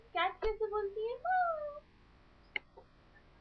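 An 18-month-old toddler imitates a cat, giving a drawn-out, rising and falling meow in a small voice, close and clear in a quiet room, followed by a couple of faint clicks.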